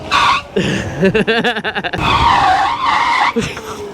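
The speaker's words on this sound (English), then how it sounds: "Brake test." A Power GOAT v2 60V e-bike's tires skid briefly under a braking test amid rushing wind and road noise, with a voice shouting partway through.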